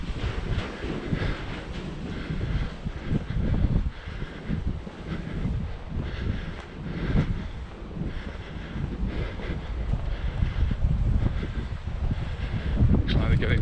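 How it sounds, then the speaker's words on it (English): Gusty wind blowing outdoors in Santa Ponsa, Mallorca, roaring steadily across the microphone with rumbling buffeting throughout, loud and continuous with no clear talk. "Wind's picking up again."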